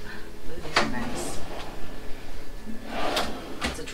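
Drawers slide open and shut in an RV kitchen, a few distinct knocks and rolling scrapes spaced through the moment while people talk over them.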